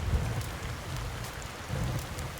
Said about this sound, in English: Especially since it's raining right now.